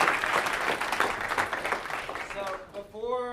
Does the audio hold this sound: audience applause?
yes